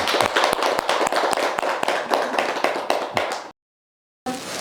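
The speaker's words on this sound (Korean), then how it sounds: "우리 선생님에게 박수 한번 쳐주세요" Audience applause for a teacher at a talk, dense rapid clapping that continues for about three and a half seconds, cuts to silence and then resumes briefly.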